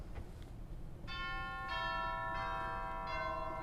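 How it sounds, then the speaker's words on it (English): Chime bells on a historic 1925 pipe organ, struck by small metal hammers, ring out in several clear, sustained bell tones that enter one after another and overlap as they decay. "We have something called chimes."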